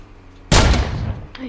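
A single loud, close gunshot cracks out in War Tycoon, a Roblox war game, and rings off with a short fading tail.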